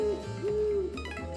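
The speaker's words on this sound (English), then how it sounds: "I found the owl recording there." An owl recording hoots in the Rhythm Thief video game, a smooth sustained tone repeated in two hoots over a low steady backdrop, with faint musical tones near the end.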